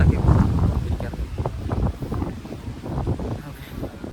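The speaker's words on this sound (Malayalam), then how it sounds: "ഇവിടെ നല്ല കാറ്റുണ്ട്" Wind buffets the microphone at a boat jetty in Kochi, a continuous low rumbling roar with gusty swells, while a person talks over it.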